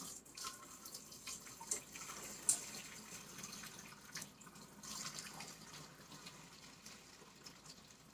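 Cooked pasta water poured from a pot into a kitchen sink, a soft continuous running and splashing wash with a few brighter spatters, moderately quiet throughout with no talking.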